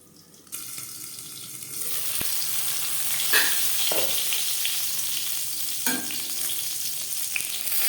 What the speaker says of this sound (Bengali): আরেক পিঠ ভাজা হওয়ার জন্য আবারও ঢেকে দেব এভাবে ঢাকা দিয়ে বেগুন ভাজলে বেগুন সুসিদ্ধ হবে